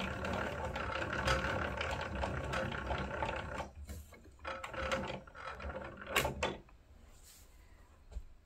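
A yarn ball winder clicks and whirs as yarn winds into a cake, a steady mechanical rattle that stops partway, followed by a few quieter handling clicks and knocks.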